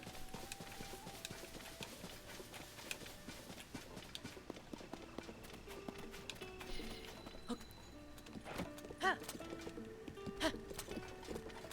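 Horse galloping in Zelda: Tears of the Kingdom, with rhythmic hoof clip-clops running throughout at moderate loudness, mixed with other game sound effects.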